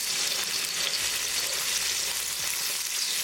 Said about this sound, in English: As the oil starts to heat up, we'll add garlic.